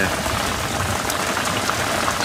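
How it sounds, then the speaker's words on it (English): Heavy rain pours down in a dense, constant hiss of drops hitting surfaces nearby, loud and unbroken throughout. "it's just starting to rain quite heavily now"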